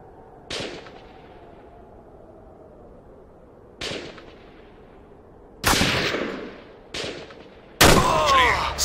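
Gunfire in the video game Battlefield 2: Modern Combat: five loud, separate shots or short bursts, spaced a second or two apart, each with a sharp crack and a decaying tail, the last ones heavier and closer.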